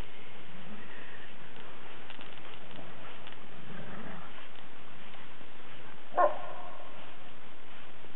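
A single short, sharp puppy yip rings out once near the end over a faint, hissy background.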